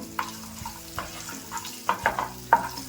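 Cumin seeds, three green chillies and garlic cloves fry in hot oil for masala curd rice. Soft spatula scrapes and clicks come at intervals over a low, steady sizzle, with no talking.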